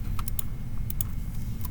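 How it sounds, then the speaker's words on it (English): Quick clicks of keys on a computer keyboard, a few brief bursts of typing over a low steady hum. "and I'm typing the word"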